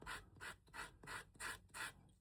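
Six rhythmic rasping strokes of a sanding block shaping a leather wallet edge, rubbing back and forth, quiet and close, evenly spaced at a brisk steady pace.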